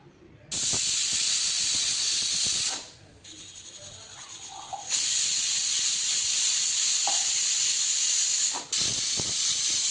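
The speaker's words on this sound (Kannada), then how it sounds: "ಕುಕ್ಕರ್ ಕ್ಲೋಸ್ ಮಾಡಿಬಿಟ್ಟು ಒಂದು 2 ವಿಸಿಲ್ ಆದರೆ ಆಯಿತು" A pressure cooker cooking tomato bath lets out loud, sustained steam hissing from its whistle, cutting out briefly twice before resuming, with faint kitchen knocks underneath.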